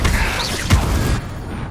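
Casting the Incendio fire spell in Hogwarts Legacy brings a sudden whooshing burst that flares briefly over a steady game background, then fades away.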